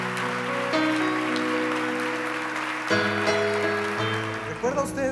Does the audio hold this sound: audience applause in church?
yes